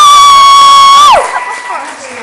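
A stand-up comedy audience breaks into cheering and applause, preceded by a long, loud sustained whistled or sung high note that bends downward before the crowd noise continues at moderate level.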